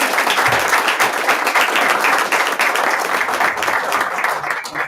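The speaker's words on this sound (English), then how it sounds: "applause for all these candidates?" An audience at a candidates' night in a library applauds the candidates with steady, dense clapping from many hands, loud and sustained throughout.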